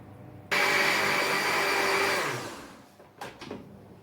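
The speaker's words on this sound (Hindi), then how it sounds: "थोड़ा सा हम इसमें पानी ऐड कर लेंगे ताकि अच्छे से ये ब्लेंड हो जाए।" A kitchen blender whirs loudly as it blends yogurt with water for village-style kadhi pakora, running steadily for about two seconds before winding down, followed by a couple of brief clicks and clatters.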